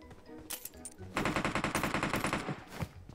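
A player's automatic gunfire at an enemy in a video game, a fast rattling burst of shots after a few scattered single shots, close and fairly loud.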